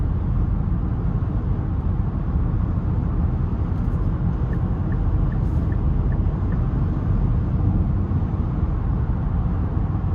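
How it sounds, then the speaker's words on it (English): Cabin of a 2025 Nissan Murano SV at speed: a constant broadband rumble of road noise with a soft wind hiss layered over it, steady and even throughout with no voices. "wind noise is coming through a little bit. Road noise, just a tad."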